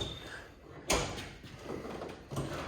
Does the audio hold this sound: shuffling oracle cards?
no